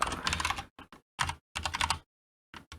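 Bursts of typing on a computer keyboard, a work keyboard used in a terminal, come as several quick clattering runs of keystrokes separated by short pauses, close and fairly loud with no voices.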